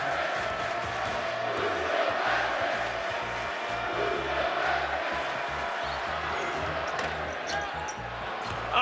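Basketball crowd noise in an arena during a Cincinnati–Xavier game as a fouled player draws reaction, a broad sustained roar of voices from the stands under a commentator's talk.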